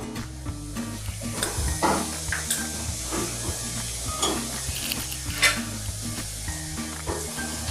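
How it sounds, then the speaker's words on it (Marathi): Cumin seeds, one small spoonful, sizzle in well-heated oil for a restaurant-style chole masala, a steady crackling hiss with occasional stirring clinks, close and continuous, with no voices. "आता आपलं तेल चांगलं तापलं आहे। आमच्यामध्ये हा 1 छोटा चमचा जिरं घालूया"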